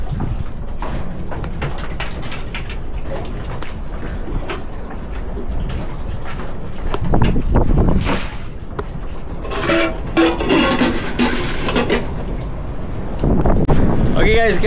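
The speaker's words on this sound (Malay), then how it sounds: "sekarang angin barat dah sampai. Dah nak ribut dah ni" A west wind rising before a storm gusts around a large raft on the water, buffeting the microphone with a continuous roar that swells louder in the second half.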